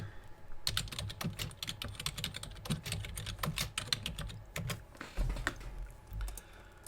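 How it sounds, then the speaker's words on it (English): Rapid typing on a computer keyboard, brisk irregular key clicks in quick bursts with short pauses, close and fairly quiet, no voices. "I created a text box and typed in whatever you want to."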